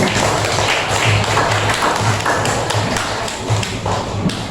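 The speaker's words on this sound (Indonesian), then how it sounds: "Tepuk tangan untuk kita" A class of students claps together in an Indonesian classroom, a loud, dense burst of handclaps with some thumping taps, sustained for several seconds without talk.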